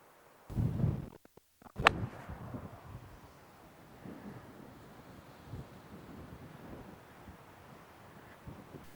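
Wind blowing across an outdoor golf course, a low continuous rushing buffeting the microphone after a few brief thumps and a sharp knock near the start.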